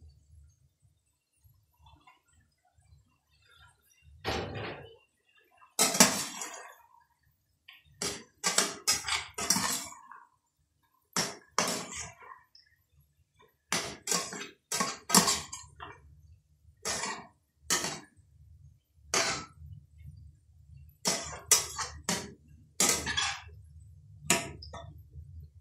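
Fried boiled eggs with slits cut into them go into a pan of egg and ridge gourd curry on a home stove, with scattered sharp clinks and scrapes of a metal utensil against the pan in irregular bursts.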